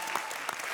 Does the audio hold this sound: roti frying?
no